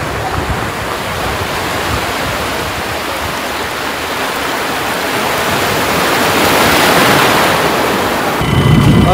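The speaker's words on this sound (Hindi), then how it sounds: "यहाँ समुद्र में लहरें भी ज़्यादा हैं" Heavy sea waves break and roll continuously on the shore at Digha Beach, West Bengal, a loud, steady surf roar that swells slightly toward the end, with no voices.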